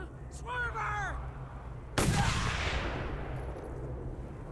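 A single heavy gunshot blast in the Mad Max video game booms out and trails off in a long rumbling decay. A short burst of excited voice comes just before it over a low steady background hum.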